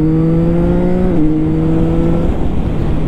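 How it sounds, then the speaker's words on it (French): CFMOTO 675NK motorcycle engine pulling hard under acceleration, its steady drone stepping down in pitch at a quickshifter gear change, then carrying on loud and close with no talk. "la petite sonorité de passage de shifter qu'on retrouve un peu l'identité d'une catoche"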